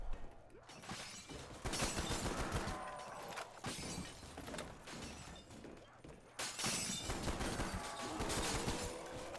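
Rapid bursts of gunfire crackle loudly and continuously, with dense cracking shots that blur together, a short lull in the middle, then another sustained volley.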